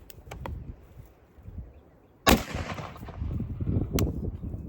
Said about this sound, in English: I'm gonna shoot one more towards the top of the tire to make sure it goes through them all